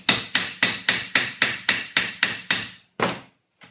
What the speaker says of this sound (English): lean towards yourself and hammer to straighten it up.